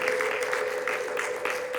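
A church congregation applauds steadily and joyfully during a sermon, dense clapping throughout with a high sustained ululating tone running underneath, loud and continuous without break.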